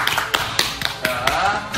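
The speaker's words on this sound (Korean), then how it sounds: "박수!" Group hand clapping in a taekwondo class, a quick burst of sharp, evenly spaced claps close by over about two seconds.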